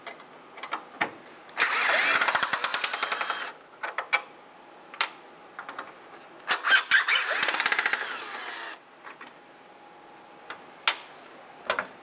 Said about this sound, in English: we're going to remove these two top Phillips screws